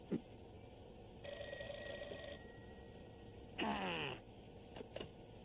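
A telephone rings in short electronic trilling bursts, separated by pauses, with a couple of brief clicks at the end.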